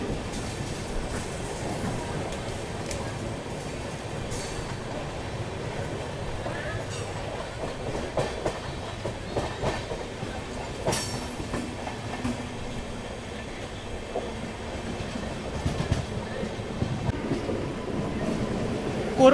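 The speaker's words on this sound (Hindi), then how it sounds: "और देखिए उस ओर जाने वाली मेमू ट्रेन से भी क्रॉसिंग हो रही है हमारी।" An Amrit Bharat Express passing a MEMU train in India, a steady rumble of wheels and rail noise with occasional clatter and squeal, continuous and fairly close throughout.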